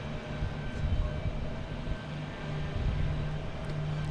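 Low rumbling jet noise from a JetBlue Airbus A321 on approach to land at Boston Logan, distant and steady with a drifting engine drone and no voices.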